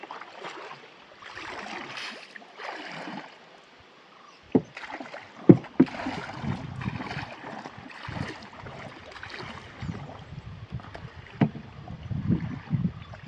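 Oars dip and splash in a slow, uneven rhythm as a small boat is rowed against the wind in Wayanad, with water sloshing and a breezy outdoor hush between strokes.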